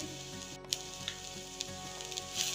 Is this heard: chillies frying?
yes